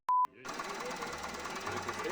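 A short electronic beep sounds before a car engine starts and settles into a rough, steady idle with a knocking, rattling texture.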